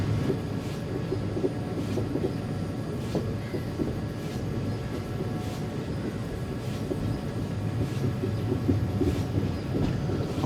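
Heard from on board, the 16127 Chennai Egmore–Guruvayur Express rolls off the main line onto the Guruvayur branch with a steady rumble and regular wheel clicks repeating over the rail joints, and no voices.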